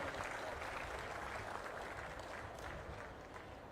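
Audience applause after a speech at an official government event, a steady broadband clapping that holds at even loudness for several seconds and fades only slightly toward the end, with no voices over it.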